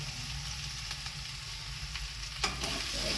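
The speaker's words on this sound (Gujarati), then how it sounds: "એકદમ મસ્ત એવું સાતળવા દેવાનું છે 2 મિનિટ જેવું" Ginger, chili and garlic paste sautéing with green garlic in a pan, a dense continuous sizzle and frying hiss close by, briefly interrupted by stirring near the end, no voices.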